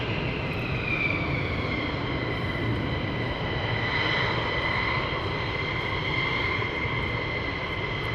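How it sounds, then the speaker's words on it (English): Fighter jets at RAF Lakenheath send a loud, steady engine roar across the field, a broad rumble with whining tones that rise and fall, with no break anywhere. "When the aircraft join the north side, you know there's a mass launch to come."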